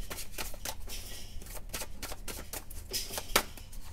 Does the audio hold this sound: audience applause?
no